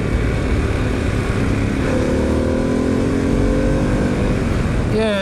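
A Harley-Davidson Pan America motorcycle in sport mode accelerates hard, its engine note climbing steadily in pitch through a sustained, loud run with wind rush, no talking over it.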